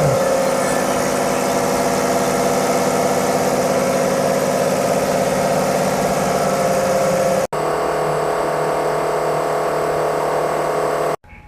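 A diesel injector test machine runs steadily at a workshop servicing fuel injectors, its constant mechanical drone broken by a brief cut, then resuming with a higher whine before stopping abruptly.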